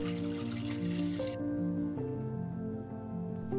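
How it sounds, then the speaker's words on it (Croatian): Water, 600 ml, pours into a cooking pot in one continuous stream for about three and a half seconds, with a hollow resonance whose tone climbs as the pot fills. No one speaks. "Najprije sipamo 600 ml vode,"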